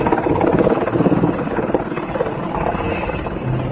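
A toy green Indonesian Army (TNI Angkatan Darat) helicopter gives off a steady, loud whirring rotor drone that holds without pause, with no talking over it.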